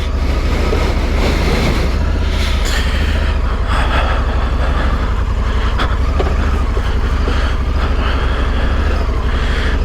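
A 2021 Honda Africa Twin Adventure Sport motorcycle is ridden, giving a continuous loud engine drone mixed with heavy wind rush and road rumble, with no break.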